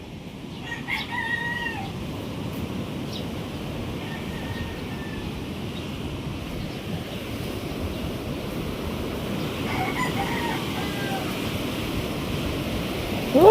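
Rooster crowing a short distance off, set against the steady wash of waves from a very close sea, with a faint second crow later over the continuous surf.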